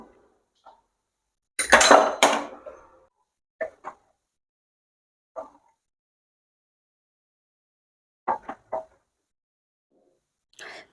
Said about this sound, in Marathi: आपण हे एक वाटीमध्ये प्लेटमध्ये काढून घेऊया.